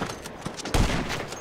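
Gunfire in a shooter video game, a dense run of rapid shots with a heavier boom partway through, loud and close, and no voices over it.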